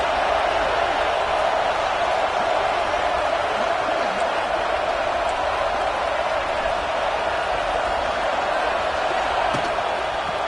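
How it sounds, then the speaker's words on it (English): A football stadium crowd at an Iowa versus Alabama game roars continuously as the defense tries for a stop near the goal line, forming a dense, steady wash of noise with no clear breaks. "the crowd really making some noise now, trying to help out this defense to get this stop near the goal line"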